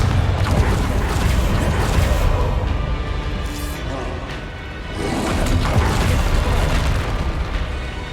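Loud booming blasts from the Confringo spell in Hogwarts Legacy hit amid dense combat noise, with a heavy burst near the start and another swelling impact midway.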